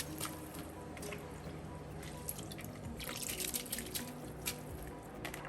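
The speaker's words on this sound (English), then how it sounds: "So let's add the soaked rice" Wet drips, squishes and splashes of soaked rice for chicken biryani sliding into rolling boiling water, soft and irregular over a low steady simmer.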